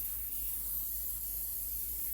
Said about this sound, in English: This is olive oil spray.